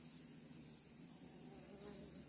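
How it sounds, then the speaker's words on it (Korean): Korean native honeybees buzzing outdoors, a faint, steady, continuous drone throughout with no talking. "토종 꿀벌이 여기 있어."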